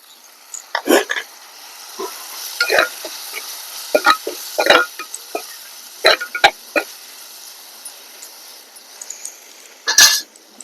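Finely chopped tomatoes cook in a pan for a brinjal tomato curry. Short, uneven bursts of sizzling and scraping stir strokes come close and moderately loud over a quiet background.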